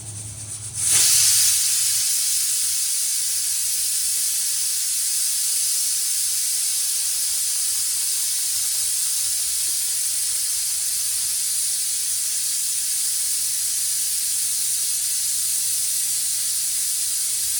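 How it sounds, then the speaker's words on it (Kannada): A kitchen mixer grinder grinds hot roasted coconut masala, bursting on after about a second into a loud, steady, hissing whir that holds constant to the end. "ನಾನು ಇದನ್ನ ಮಿಕ್ಸಿಗೆ ಹಾಕ್ಕೊಂತೀನಿ ನಾನು ಇವಾಗ"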